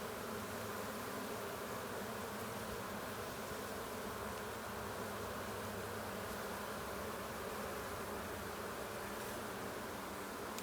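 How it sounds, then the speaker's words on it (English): Dense, continuous buzzing of many honeybees, steady and enveloping like the inside of a busy hive, with no voices. "See if you can hear that buzzing."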